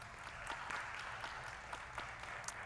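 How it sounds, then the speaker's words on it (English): Steady crowd applause with scattered sharp claps, fairly distant and even throughout, with faint voices mixed in. "Give them one more round of applause."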